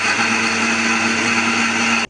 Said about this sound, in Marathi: थोडंसं पाणी घालूया आणि मिक्सरमध्ये चटणी छान बारीक वाटून घेऊया.